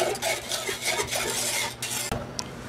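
A utensil scrapes and clinks steadily against a metal pot while a milk mixture for coffee jelly is stirred, continuous and close, with a sharper knock near the end.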